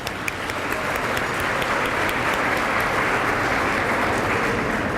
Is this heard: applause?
yes